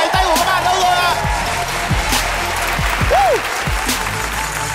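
Concert crowd applauding at a televised singing show, steady dense clapping and cheering throughout with music and a voice weaving over it, plus a few deep thumps.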